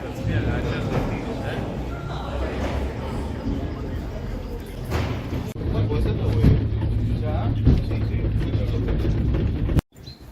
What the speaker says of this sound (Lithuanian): Pakylam funikulierium į gerą aukštį.